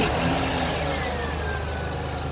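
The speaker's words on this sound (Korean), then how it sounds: "자, 시동 한번 걸어주세요." A car engine, checked for serpentine belt auto-tensioner noise, running at a steady idle, loud and close, a low mechanical rumble with no voices.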